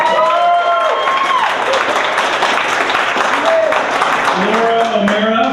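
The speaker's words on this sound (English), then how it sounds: "so another round of applause." Audience applause at an inter-campus college event, steady clapping from a crowd lasting several seconds, with voices mixed in among the clapping.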